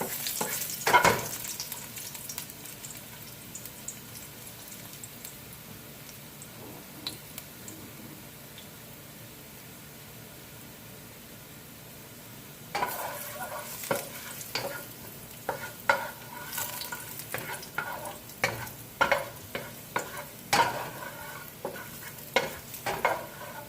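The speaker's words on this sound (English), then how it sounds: "I like to burn my garlic in the oil." Garlic frying in oil in a pot for Jamaican brown stew cow foot: a faint sizzle at first, then louder scraping stirs and crackling over the sizzle, with no talk.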